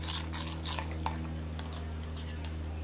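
Sourdough starter and fresh milled flour are stirred together in a bowl, giving soft scraping and light clinks over a steady low mechanical hum, close to the listener and fairly quiet.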